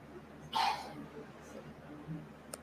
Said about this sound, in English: that was just my uncle coughing